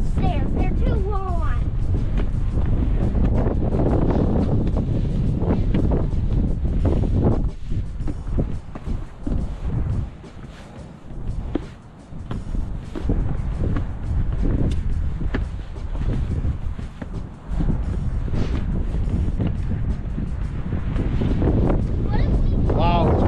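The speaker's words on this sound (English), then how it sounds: "Wow, it's windy and cold out here," Strong wind gusts buffet the microphone outdoors at Dinosaur Park in Rapid City, South Dakota, roaring continuously with a brief lull midway. People talk throughout.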